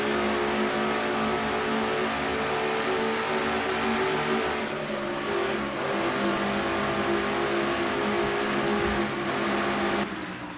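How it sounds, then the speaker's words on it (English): Stock car engines roar in a NASCAR racing sim at Dover, a loud continuous drone of cars racing close by that holds steady throughout, with no talk. "On board Kyle Matthews' car as he goes inside of Tellier now and tries to follow through"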